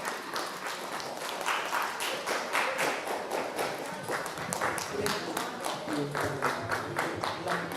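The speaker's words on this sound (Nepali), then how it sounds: "हामी सबैले ताली बजाइदिनु होला।" A Nepali church congregation in Pittsburgh applauds during a Christmas 2021 gift-sharing program, with dense, steady clapping that fills the whole stretch and some voices mixed in.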